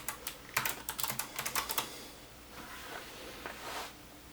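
Rapid keystrokes on a computer keyboard as a password is entered, a quick close burst of clicks for about two seconds, followed by a few softer taps and quiet room hiss.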